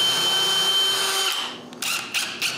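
A loud, close power drill whines steadily, pauses, then gives a few short bursts as screws are driven into a wooden jig while making drawer pulls.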